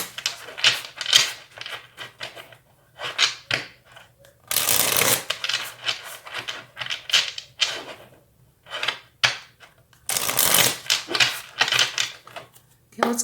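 Tarot cards are shuffled by hand during a reading, in repeated crisp riffling bursts of flicking cards that are close and fairly loud, with two longer, fuller shuffles among shorter ones.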